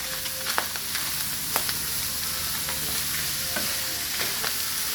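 Garlic and bamboo shoots fry in a pan for adobo while being stirred: a steady, fairly loud sizzle with scattered scraping clicks and light pops from the spatula, close up and without talk.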